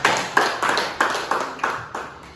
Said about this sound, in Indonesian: Tepuk tangan dulu untuk Ivana.